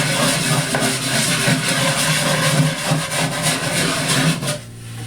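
Sandpaper rubbed in circular motions over the rounded corners of a wooden toy box gives a steady, close, dry rasping that runs continuously before easing off near the end.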